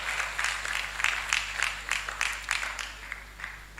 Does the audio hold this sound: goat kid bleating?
no